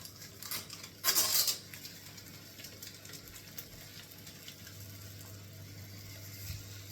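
Lincolnshire sausages going into a frying pan, a brief clatter of metal and utensils near the start, followed by a quiet, faint sizzle under a low hum.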